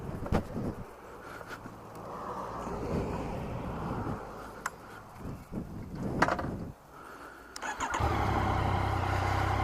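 A stock 2017 Yamaha FZ-09 motorcycle engine cranks and fires, with clicks and short bursts giving way to a steady, fairly close idle. The whole stretch is moderately quiet.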